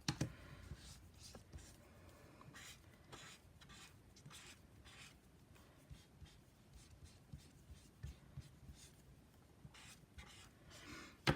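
Brush pen tips dragged and scrubbed over paper while blending colour, the paper surface starting to shred; faint, close scratchy strokes in a loose irregular rhythm.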